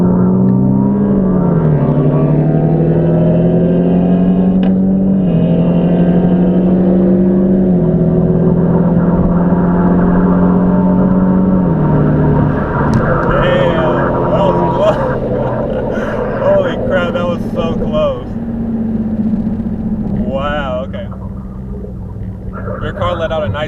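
A tuned 2019 Ford Mustang EcoBoost and a full-bolt-on Focus ST accelerate hard in a race, a loud, continuous engine drone whose pitch climbs and drops in steps as the gears change.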